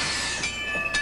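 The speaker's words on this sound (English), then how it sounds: "with a train just like this" A commuter train runs at a station in Crystal Lake, Illinois, with a short, loud rush of rail noise, metallic wheel squeal and a high ringing tone rising near the end.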